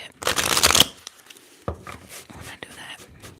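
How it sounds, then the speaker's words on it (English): Tarot cards are shuffled in one dense, crisp riffle burst up close, followed by softer card taps, slides and handling noises in a quiet room. "Without further ado, let's shuffle."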